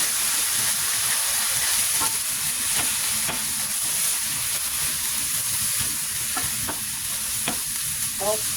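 Continuous frying sizzle of garlic in oil fills the clip, with intermittent clinks and scrapes of a utensil stirring in a wok, close and fairly loud.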